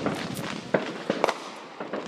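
Fourth of July fireworks pop and crackle in the distance outdoors on a windy night, with several sharp bursts standing out from a steady rumble of wind and background noise.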